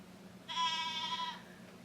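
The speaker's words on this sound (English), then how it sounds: "I have a new baby goat, so its mom is trying to find it." Mother goat bleating for her newborn kid, a single drawn-out, nasal bleat with a wavering tone, close and fairly loud over a quiet background.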